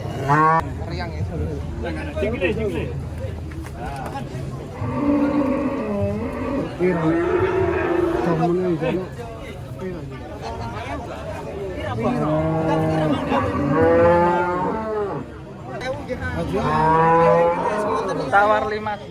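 Thin, bony cattle lowing at a livestock market, long loud moos repeating one after another close by, with people talking in the background.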